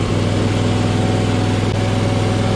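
A lawn mower engine runs steadily close by, a loud continuous droning hum without change and no voices.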